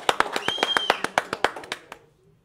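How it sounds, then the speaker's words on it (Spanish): A short burst of hand clapping welcoming a guest on a Dominican talk show, about a dozen distinct close claps in quick rhythm that stop abruptly before two seconds. "Bienvenido, un aplauso."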